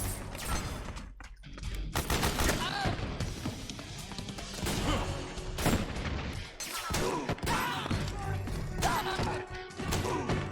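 Desert Eagle pistol gunfire in Metal Gear Solid 4, repeated heavy shots mixed with crashing impacts and thuds, loud and busy throughout with brief lulls between bursts.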